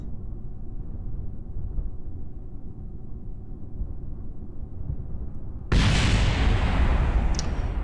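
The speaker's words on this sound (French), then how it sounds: "explosion du bouclier thermique en arrivant" A heat shield explodes during re-entry in Kerbal Space Program: a steady low roar suddenly gives way to a loud, bright, sustained blast that fills the rest of the moment.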